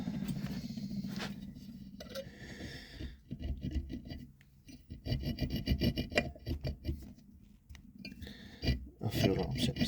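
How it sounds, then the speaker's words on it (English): A blunt hacksaw blade, held in mole grips, rasps across a smooth round bullet while cutting an angle. The strokes are close and uneven, with scraping bursts that start and stop, and someone talks over parts of it. "I'm trying to cut an angle on something smooth and round with a blunt hacksaw blade held together with a pair of mole grips."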